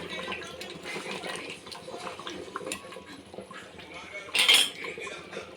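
A spoon stirs goat head curry with mutton masala and coriander powder in a pot, soft scraping and clinking of metal under kitchen noise, with one brighter clink near the end.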